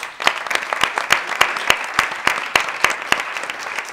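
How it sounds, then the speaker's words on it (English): An audience at a panel event gives a round of applause for a producer being introduced, a thin scattering of distinct hand claps from a small crowd, sharp and uneven in rhythm. "a round of applause for Tariq"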